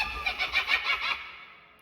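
A cackling witch sound effect plays from the Halloween update on a Rivian vehicle, a rapid series of about six high pulsing cackles that trail off into a fading tail.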